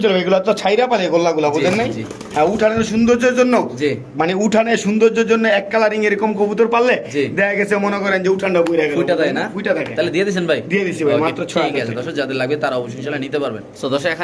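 Mundian and Spanish pigeons being sold coo softly beneath someone talking continuously and loudly close to the microphone.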